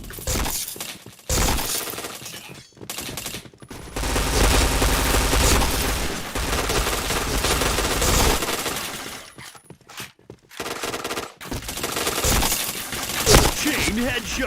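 Bursts of rapid video game shooter gunfire with sharp impact and shattering hits, loud and dense, broken by brief gaps, with faint voices now and then.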